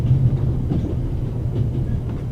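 The Orient Express running from Paris to Istanbul in the video game The Raven: a steady, low rumble of rolling carriages with faint rail clatter, continuous and fairly loud.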